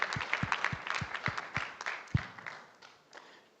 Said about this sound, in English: Please give them a round of applause before we move to questions